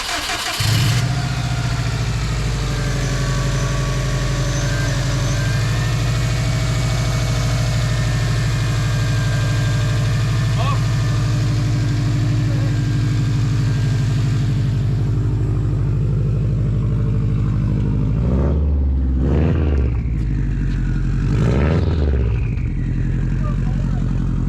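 Subaru rally car engine idling loud and close with a steady rumble, then a couple of sharp revs blip toward the end with no talk over it.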